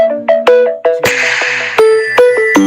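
A mobile phone rings with a repeating electronic ringtone, a rapid sequence of bright plucked tones in a rhythmic pattern, loud and close with no voices.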